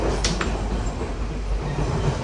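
A train at Mount Lavinia station in Sri Lanka rumbles steadily and close, with a low continuous roar and a couple of brief high hissing bursts, no voices.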